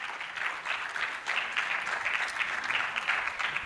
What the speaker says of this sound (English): Clap for her until she comes.